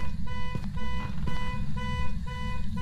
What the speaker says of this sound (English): Car alarm, don't worry about it.